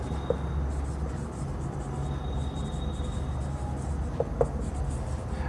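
A pen scratches on paper while a maths problem is worked out, faint soft strokes with a couple of sharper taps, over a low steady background hum and no speech.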